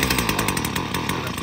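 A STIHL FS 70 C petrol brush cutter engine runs with a steady, buzzy two-stroke drone at moderate loudness, continuous throughout with no other sounds.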